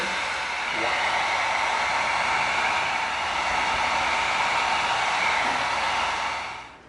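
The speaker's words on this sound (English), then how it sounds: "now we're going to heat seal now that we've sanded" A heat gun heat-sealing sanded EVA foam for a medieval mace, giving a steady, loud blowing whoosh that holds constant for several seconds and then cuts off.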